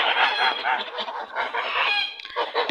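Ducks in a yard give a dense run of raspy, overlapping quacks and calls, close and loud, continuing without a break for the whole stretch.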